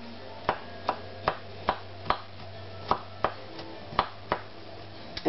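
A knife chops ginger on a cutting board in about a dozen sharp, evenly spaced strokes, close and clear with no talking.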